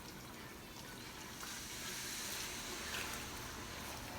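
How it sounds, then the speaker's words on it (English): Water from a tap or jug pours steadily into a cooking pot while Ayaraya oka is prepared, a quiet, continuous wash of liquid with no talking. "I'm still gonna put more water here"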